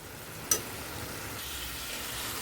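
Tomato and onion frying in oil with a steady, close sizzle that runs unbroken throughout, broken once early by a short sharp tick.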